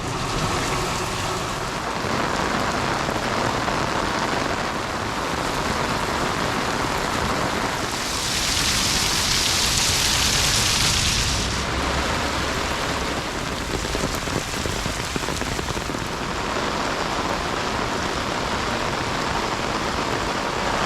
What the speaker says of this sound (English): we're all cosy warm in here while it's raining out there